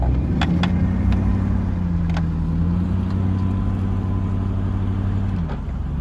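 A V8 off-road vehicle engine labours loudly in deep sand at a quarry, a close, sustained droning growl with slight pitch shifts and a few clicks before it eases off near the end.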